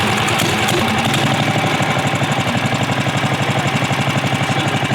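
A 420cc mini bike engine, fitted with a muffler, runs loud and close with a steady, fast chugging pulse and no speech over it.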